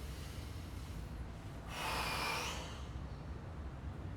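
A forceful nasal inhale from kriya breathing practice rises for about a second, breathy and hissing, alone over quiet room tone.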